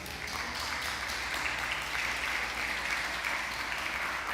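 A church congregation applauds after the pastor's sermon, a steady, even wash of many hands clapping that holds from start to finish at moderate volume, with no voices over it.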